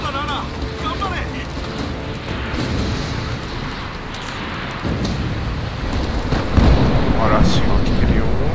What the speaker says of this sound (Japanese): 嵐が来てるよ。